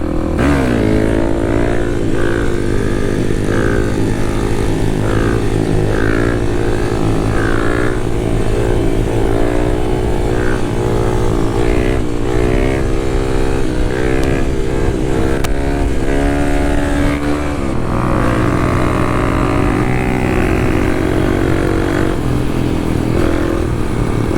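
Kawasaki KLX dual sport motorcycle ridden on the street, its engine loud and close with repeated rising and falling revs as it accelerates for wheelies, under steady wind roar.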